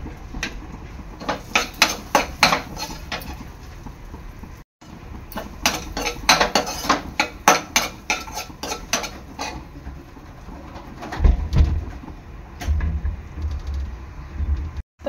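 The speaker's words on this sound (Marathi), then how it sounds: "ह्याच कढईमध्ये मी टाकणार आहे थोडंसं तूप, आपले ड्रायफ्रुट्स आणि तीळ चांगले परतून घेणार आहे" A spoon stirs dry fruits and sesame seeds roasting in ghee in a metal kadhai, scraping and clinking against the pan in a loud, steady, repeated rhythm with no talking.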